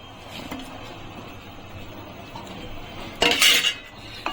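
Chopped vegetables tipped into a pot of partly cooked dal for sabudana khichdi, quiet kitchen background followed by a loud brief clatter of a metal utensil against the pot.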